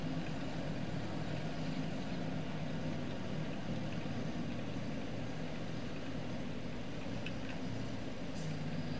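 A tractor engine drones steadily in the Farming Simulator 22 video game while mulching a field, a continuous low rumble holding at an even level throughout with no voices.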